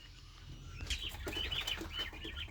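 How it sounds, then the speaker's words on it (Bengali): European white giant coturnix quail on a farm give short high chirps and calls, several overlapping across the clip over a steady low hum of farm background noise, no talking. "এই যে এটা হচ্ছে ইউরোপিয়ান হোয়াইট জায়ান্ট কটনিক্স, এখানে আমার খামারে আছে"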